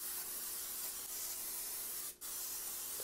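A hissing spray of grease coats a baking dish for pineapple kugel, a steady close burst lasting about two seconds, a brief break, then one more short spritz.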